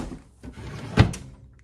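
A drawer in a bedroom is pulled open. There are soft scrapes, then one sharp close thunk near the middle, followed by a light knock. The sounds are near and clear, with no voices.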